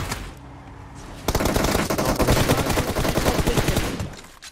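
Sustained automatic gunfire from an MG3 and an M416 in the mobile battle royale game BGMI, a loud, rapid, continuous burst of shots lasting a few seconds after a brief lead-in, with no talk over it.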